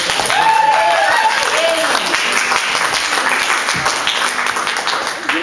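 Audience applauding loudly at a live ukulele performance event, a sustained burst of clapping with voices and cheers mixed in, fading slightly toward the end.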